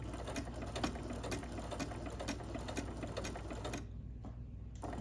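A domestic sewing machine stitching a dart in fabric, running in a steady fast whir of needle strokes close by, then stopping abruptly near the end, with no talk.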